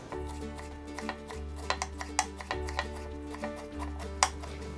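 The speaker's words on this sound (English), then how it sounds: "And I have a bunch of chives. It's approximately 10 grams. Cut it to very thin pieces." A knife chops a bunch of chives, about 10 grams, into very thin pieces on a board, a series of light, crisp, irregular taps close by over a steady low hum, with no talking.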